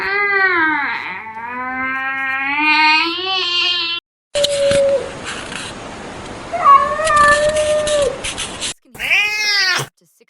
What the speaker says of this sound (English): dogs have incredible hearing, and they can pick up on the high-pitched tones of a cat's meow